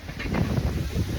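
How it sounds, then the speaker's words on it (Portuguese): Strong wind of about 50 km/h gusts across the microphone at a kite-flying spot, a steady loud rush and buffeting with low rumble and no voices. "Olha o vento hoje. Tá uns 50 km de vento"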